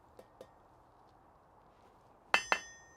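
A rawhide mallet strikes metal twice in quick succession in a blacksmith's smithy, two sharp clear knocks near the end, with a couple of faint taps earlier in a quiet room.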